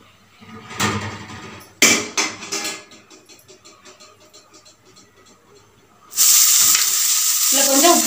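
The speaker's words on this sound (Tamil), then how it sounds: "ஆயில் கொஞ்சம் ஊற்றிக்கலாம். வெங்காயம் கொஞ்சம் தாளிச்சுக்கலாம் போட்டு." Onions sautéing in hot oil in a pan for potato masala bonda, with loud clattering stirs and scrapes early on, then a strong, steady sizzle as they hit the oil near the end.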